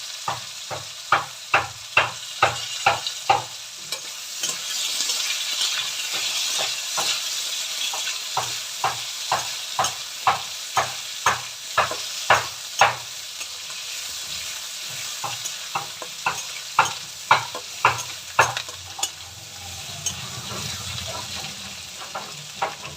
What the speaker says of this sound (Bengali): এই যে জিরে, কালো জিরে ফোড়ন দিয়ে দিলাম। সঙ্গে পেঁয়াজ দিয়ে দিলাম।